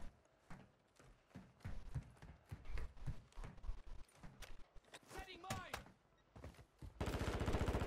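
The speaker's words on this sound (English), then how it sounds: "I'm getting shot from the other side" Rapid bursts of gunfire in a Call of Duty match, close and dense shots in clusters mixed with game effects and a voice talking over them, ending in a loud sustained roar of noise.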